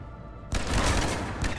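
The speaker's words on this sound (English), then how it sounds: "Love the way this gun sounds." Gunfire in the video game Mass Effect 3 opens after a short quiet moment, a loud, sustained burst of rapid shots.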